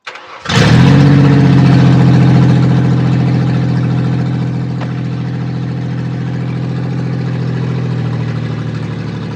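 A Ford Ranger engine rigged to power a blender cranks and catches, flares up in a loud rev, then settles into a steady, close idle hum that continues to the end.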